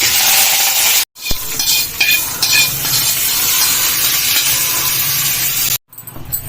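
Cumin, mustard seeds, dried red chillies and curry leaves are tempered in hot oil, crackling and sizzling loudly up close while a spoon stirs and clatters. The sizzling breaks off briefly twice.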